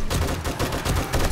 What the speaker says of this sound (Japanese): まだ撃ってきてるやつがいますが